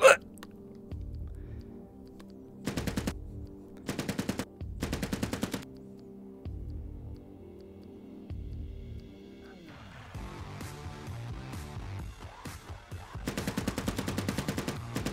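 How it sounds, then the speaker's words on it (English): Automatic gunfire in a video game, fired at a winged beast in Wasted Crater, Revenant Squad: several short rattling bursts stand out over a steady game soundtrack and effects, with a longer, denser volley near the end. "As you shoot at the creature"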